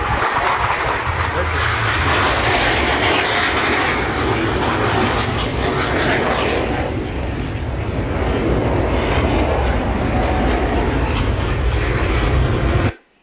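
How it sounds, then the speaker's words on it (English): An airplane flies overhead with a loud, steady engine roar that stays strong for over twelve seconds before cutting off abruptly, with voices faintly beneath it. "The plane, boss, the plane."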